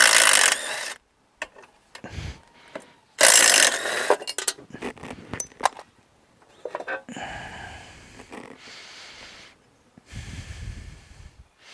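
A ratchet wrench works 3/8 bolts loose from the cover of a Briggs & Stratton Quantum small engine, giving bursts of close, rapid clicking broken by pauses, handling noise and breathing.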